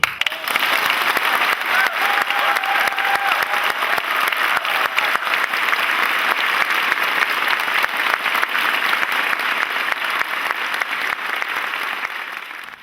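Korean union members in a meeting hall break into long, loud, dense applause with shouting mixed in, holding steady for several seconds before tapering slightly at the end.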